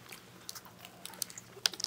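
A bite into a crunchy chicken biscuit gives faint, quiet crunching and chewing, with a few sharp crackles scattered through a short, close-up stretch and no speech.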